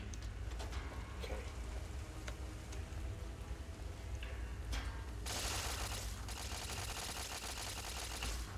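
Laser turrets fire in Fallout New Vegas: a steady crackling, hissing volley of rapid zaps that grows louder and denser about halfway through, with scattered sharp clicks over a constant low game hum.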